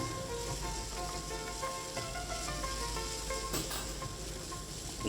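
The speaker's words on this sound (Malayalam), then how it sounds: "നല്ലപോലെ ഒന്ന് മിക്സ് ചെയ്ത് മൂപ്പിച്ചെടുക്കുക" Green chilli, ginger and garlic fry in a pan, giving a soft continuous sizzle with faint crackles, low and close, and a short knock at the very end.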